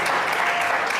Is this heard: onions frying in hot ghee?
no